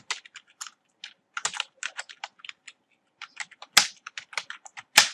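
Keys clatter on a computer keyboard as text is typed into Microsoft Word, quick, close, irregular clicks in short bursts with brief pauses, no voices.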